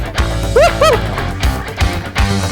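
A happy, excited pet dog gives a couple of quick high yips, with people and movement around it outdoors while running along.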